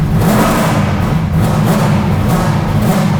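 A car engine runs loud and close, with a rough low rumble that rises and falls as it revs repeatedly.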